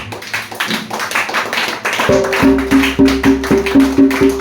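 Church congregation clapping and acclaiming the Lord, with a dense wash of applause giving way to steady rhythmic hand claps over sustained music, fairly loud and close.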